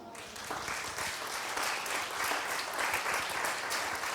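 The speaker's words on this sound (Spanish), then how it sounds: "Den un aplauso al Señor, hermano." A church congregation claps together in praise during a worship service, a full, continuous round of applause with faint voices mixed in.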